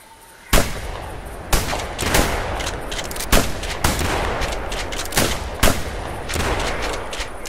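A 10-gauge shotgun fires while hunting ducks in theHunter video game, about eight loud, sharp blasts spaced unevenly over several seconds with ambient outdoor noise between them.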